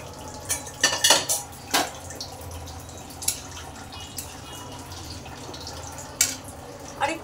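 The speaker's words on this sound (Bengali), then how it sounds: "আর একটু দিয়ে দিলাম জল।" Water added to a pot of potatoes being boiled, with metal pot and utensil clinks scattered over a quiet kitchen background, several sharp knocks early and a few more later.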